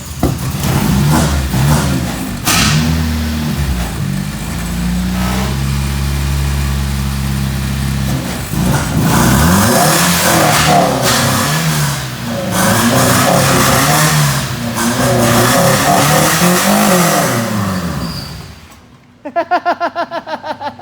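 A Nissan 240SX engine revs hard and loud for most of the stretch, pushing the front tires, with voices mixed in, before the engine cuts out abruptly near the end and a few short sputtering pulses follow.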